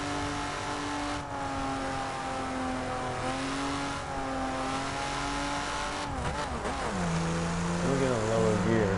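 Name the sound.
2011 BMW Z4 engine accelerating through gears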